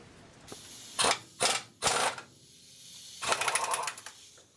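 A 1 1/8 inch socket on a hand ratchet works loose a brake nut on a Chevrolet C-10 truck. Several short, loud ratcheting bursts come close together and then a longer rattling run, all close up with no talk.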